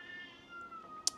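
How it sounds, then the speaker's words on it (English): A house cat cries while dragging its toy around, a drawn-out meowing wail, faint and indoors, ending in a brief sharp click. "if you hear Jen, she grabs her toy and she drags it around crying because she wants to play"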